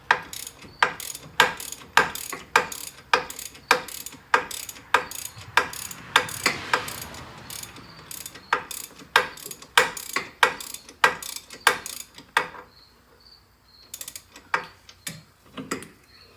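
Ratchet wrench clicking in quick rhythmic bursts, backing bolts out of a rear wheel hub assembly on a Chevrolet Traverse/GMC Acadia-type SUV during an ABS and wheel bearing repair, close and clear with short pauses.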